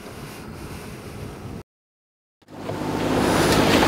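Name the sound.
sailboat motoring under engine at sea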